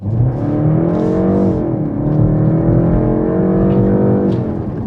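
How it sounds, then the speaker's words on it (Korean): BMW 520i sedan with a 190 hp mild-hybrid 48V engine and rear-wheel drive, accelerating in sport mode, a close, steady engine drone rising and falling in pitch through gear changes, heard alone. "여기서 이제 스포츠 모드를 한번 넣어볼까요?"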